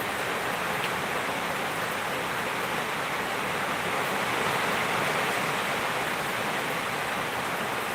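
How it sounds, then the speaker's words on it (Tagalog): Heavy rain pours down in a steady, dense hiss that fills the whole stretch evenly and loudly, with no breaks and no voices. "Maingay ba ang ulan?"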